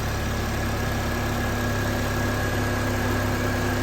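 A 2008 Pontiac Solstice with a fuel-injected Ecotec four-cylinder idles steadily, a smooth, even engine hum held close and constant throughout with no talking over it.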